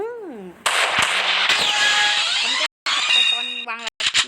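Gunfire from the mobile shooter game Free Fire bursts out loudly in a sustained, crackling barrage, alongside in-game tones and a person talking excitedly.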